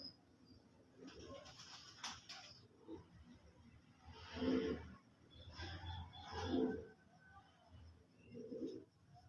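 A teddy pigeon cooing nearby: several low, rounded coo phrases spaced a couple of seconds apart, rising and falling in loudness against a quiet background with faint incidental noise.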